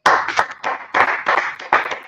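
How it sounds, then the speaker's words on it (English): A small group claps during a Wednesday church class, uneven close bursts of hand claps in quick irregular clusters with brief gaps between them. "First, let's clap it up for the Lord."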